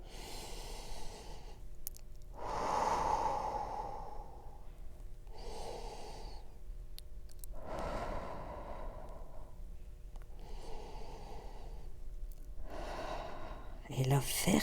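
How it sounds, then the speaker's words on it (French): Slow, deep breaths during a stretching session, several long audible inhales and exhales spaced a few seconds apart, close and quiet in a calm room. "On va respirer 3 fois comme ça."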